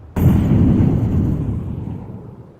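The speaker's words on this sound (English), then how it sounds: "Throwing fire. Throwing grenade." An incendiary grenade bursting in Counter-Strike 2: one sudden loud low boom that rolls off into a fading rumble over about two seconds, with no talk.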